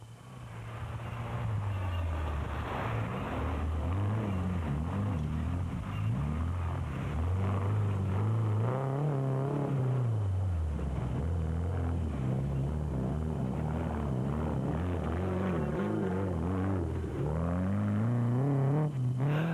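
Off-road racing vehicles at the 2003 Sun City 400 rally, engines revving continuously with rising and falling pitch, loud and close throughout with no pauses or voices.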